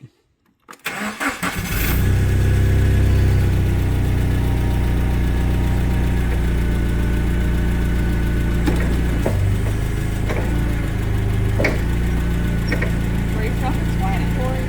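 A Cummins engine in a forklift cranks and catches just under a second in, then settles into a loud, steady rumbling run with small shifts in speed through the rest of the clip.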